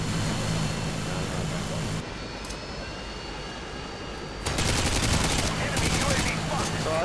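Harrier jets strafing in Modern Warfare 2 as loud, continuous gunfire and jet roar, dropping back partway through and then surging again, with no talk over it.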